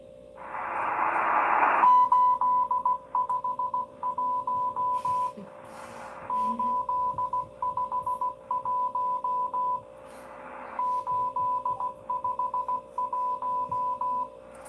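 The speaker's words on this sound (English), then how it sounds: "They're sending like Morse code signals." Morse code signals on intercepted radio: long runs of rapid, steady tone beeps in repeating bursts, separated by brief surges of static hiss.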